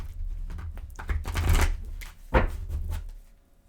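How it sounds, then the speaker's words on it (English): Riffling cards are shuffled nearby, a few rapid flurries of papery flicks with brief pauses, no voices. "these are so hard to shuffle"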